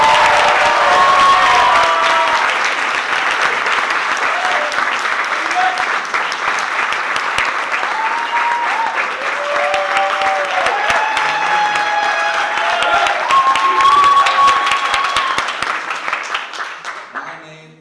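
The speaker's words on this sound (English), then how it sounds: "You're going to start clapping, right?" A comedy club audience claps and cheers loudly and steadily as a comedian walks onto the stand-up stage, with a host's voice over the applause, which fades out at the end.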